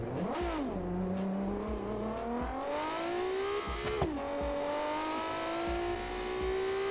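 Car engine in the BeamNG driving game bogging down then revving up, pitch dipping and climbing steadily over a sustained drone, near and loud with a brief shift stumble midway.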